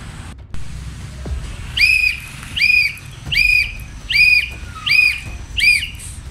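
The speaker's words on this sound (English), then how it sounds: "consecutive whistle blasts for emergency" Mountaineering trail signal whistle blasts sound as six short, shrill, evenly spaced toots in a steady rhythm, loud and close, signalling an emergency in the open with no talk.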